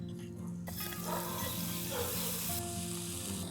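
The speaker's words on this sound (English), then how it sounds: "use the same pan to saute my marinated prawns" Marinated prawns sautéing in a pan for a Kerala-style prawn fry, giving a loud continuous close sizzle and spatter that swells slightly after the start and holds steady throughout.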